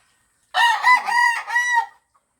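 A single rooster crows nearby, a loud, clear cock-a-doodle-doo lasting just over a second, with silence before and after.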